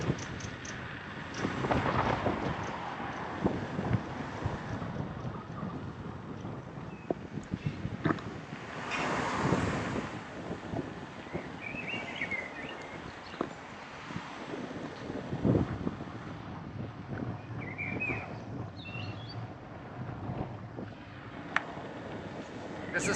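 Strong gusting wind buffets the microphone at a windy spot on a chilly 21C day, giving low roaring rumbles that surge and fade with uneven rhythm throughout.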